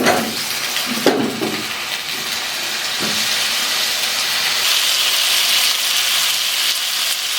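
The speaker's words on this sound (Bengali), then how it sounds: "তেল গরম হয়ে গেছে, আলুগুলো ছেড়ে দিচ্ছি।" Potatoes are dropped into hot mustard oil in a pan, a loud steady sizzle and hiss building after a couple of clunks at the start and carrying on evenly to the end.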